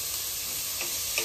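Vegetables frying in a pan at home give a steady, close hiss of sizzling with a couple of faint clinks, no talking.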